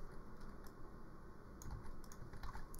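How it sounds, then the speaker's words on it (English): Quiet, steady typing on a computer keyboard as terminal commands are entered, a soft run of light key clicks with a few slightly louder taps, alone with no talking. "So just go ahead and type these commands in."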